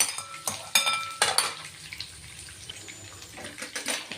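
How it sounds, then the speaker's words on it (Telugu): A mixture for nalleru pachadi is stirred in a cooking pan with a utensil, giving quiet, irregular scrapes and metallic clinks close by, with no voices. "ఒక్కసారి కలిపి చూడాలి"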